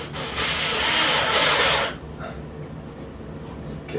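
A power drill drives 1¼ inch drywall screws during a DIY bathroom remodel, giving a loud, steady whirring burst for about two seconds that then cuts off to quiet room noise.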